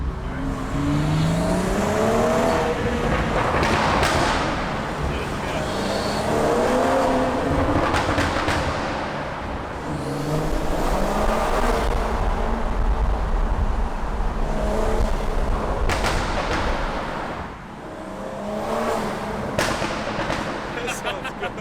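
BMW 340i with an MHD tune accelerating through a tunnel, engine surging and falling in repeated revving pulls with crackles, loud and echoing, while people talk over it.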